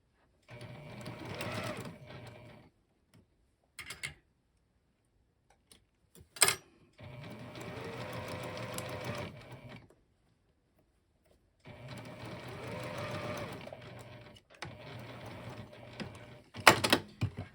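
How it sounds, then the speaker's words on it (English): A sewing machine stitches a fabric lanyard with polyester thread in three steady whirring runs, each a few seconds long, separated by pauses and small clicks; nearby and moderately loud, with no talking. "I'm using polyester thread because this is going to be around somebody's neck."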